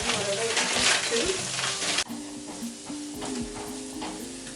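Spam frying in oil over medium heat in a pan, a close, steady sizzle and crackle that drops a little in loudness midway and keeps going, with faint scraping of stirring.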